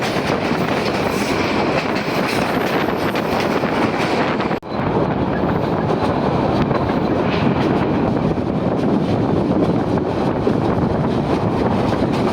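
The Burimari Express rolls through with a loud, continuous rumble of wheels and carriages. Rhythmic clatter and wind buffeting stay close and steady for the whole stretch, and there is no talking.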